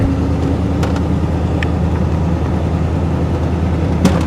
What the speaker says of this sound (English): Fully on the throttle now. I mean, it makes a lot of noise.